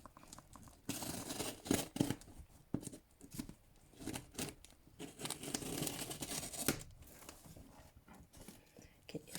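A knife slices and tears through a cardboard box of shipped plants in short, uneven scratchy strokes and rustles, close by with brief pauses between cuts.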